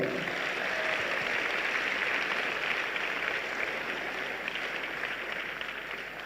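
An audience at a live summit event claps together, a dense, steady wash of applause that stays loud and even throughout before easing slightly at the end, with no voices over it.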